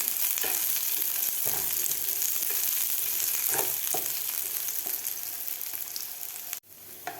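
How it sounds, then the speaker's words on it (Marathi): Chopped onion fries toward golden in a pan, producing a loud, continuous close sizzle with occasional stirring knocks, before the sound cuts off abruptly near the end. "आपल्याला हा कांदा भाजून घ्यायचा आहे"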